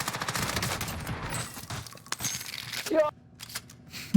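An enemy sprays gunfire in Call of Duty Warzone, a rapid muffled rattle of distant shots with a sharp crack near the end, heard under someone talking.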